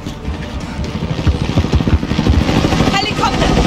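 Helicopter rotors chop through a Call of Duty: Modern Warfare 2019 campaign battle, a loud rhythmic thudding mixed with gunfire and game effects, with a voice talking over it.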